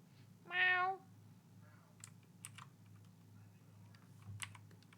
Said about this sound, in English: I heard Kiro meow.